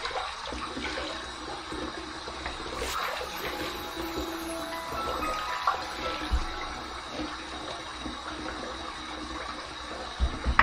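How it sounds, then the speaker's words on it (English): Hot water from a shaving puck poured over a head before a head shave, a steady close splashing and trickling that runs the whole time with a few louder splashes, no talking. "take this hot water from the puck, and let's dump that in there. And let's wet the head"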